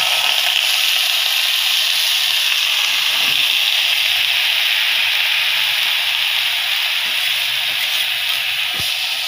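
Boiled, chopped banana tree core hits a hot oiled pan, giving a steady, loud broadband sizzle that holds without pause throughout, with faint scattered clinks underneath.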